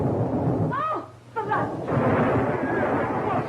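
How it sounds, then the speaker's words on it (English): Storm thunder rolls in a long, loud, rumbling roar in a 1934 film scene, dipping briefly while a short cry rises over it, then swelling again. "It's a storm."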